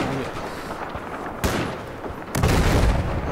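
Battlefield 4 combat gunfire pops through a dense, noisy battle mix, with sharp loud reports near 1.5 and 2.4 seconds and a heavier rumble afterward.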